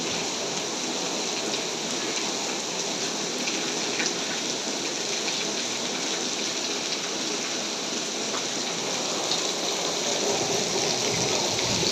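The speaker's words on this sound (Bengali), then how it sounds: "ঝুম বৃষ্টি নামছে, ঝুম।" Heavy rain pours steadily in the year's first downpour, a dense continuous hiss of drops on surfaces, close and unbroken with no voices.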